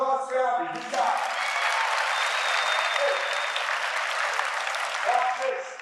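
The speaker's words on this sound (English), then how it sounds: "Round of applause for Abby." A high school assembly audience bursts into sustained applause for a student, a dense wash of clapping that holds steady for several seconds before tapering off.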